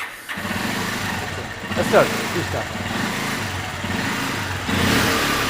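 A Bajaj Pulsar 150cc motorcycle engine starts and settles into a steady running idle with a brief rev, close by, under people talking.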